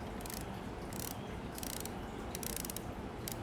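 Mechanical clicking and ratcheting of the film advance on a vintage Kodak Pony camera, a few short bright bursts of clicks over a quiet, noisy background with no speech.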